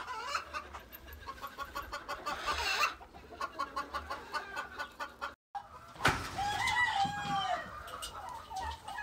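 Chickens and a turkey call close by, with rapid repeated clucks and gobbling, then a loud rooster-like crow after a short break, in a farmyard setting.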